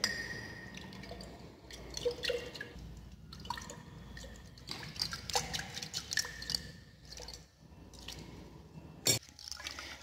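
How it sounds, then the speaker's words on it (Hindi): Sodium sulfate salt is shaken into water in a container for an aggregate soundness test, giving faint irregular rattling, dripping and sloshing with small clinks, close and low in level, with one sharp knock near the end. "इसलिए आपने थोड़ा थोड़ा इसके अंदर साल्ट्स डालते जाना है और इसको इस तरह से शेक करते जाना है"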